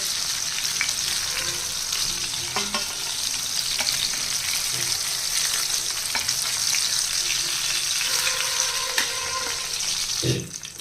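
Pieces of masala-coated fish fry in hot oil with a steady, dense sizzle and crackle that fills the whole stretch, with occasional clinks of a stirring utensil and no talking.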